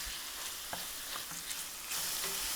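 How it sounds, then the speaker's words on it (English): Diced lobster meat sears in butter with leeks, a close, continuous sizzle and crackle that swells louder toward the end. "we're just going to allow this to sear and sizzle in the butter."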